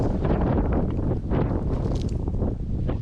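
Strong wind buffeting the microphone in continuous gusts near an abandoned waterwheel in Scotland, a loud rushing roar that swells and dips, with faint rustling underneath.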